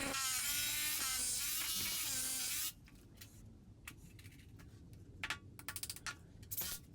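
A power driver drives a screw through the bottom piece of a media wall framework into the floor, a loud, close whirring buzz for a few seconds followed by quieter scattered clicks and knocks.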